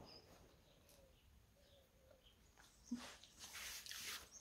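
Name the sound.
birds singing outdoors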